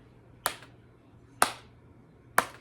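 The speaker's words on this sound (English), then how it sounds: "every time I clap my hands down, that's the number" Three single hand claps spaced evenly about a second apart, sharp and close in a quiet room, marking a steady beat for a music lesson on counting eighth notes.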